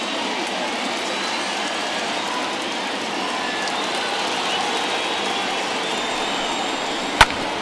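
A steady, dense roar from a stadium crowd of more than 37,000 rising to its feet on a full count in a Toronto Blue Jays vs Boston Red Sox baseball game in MLB The Show 21, a continuous wash with one sharp snap near the end.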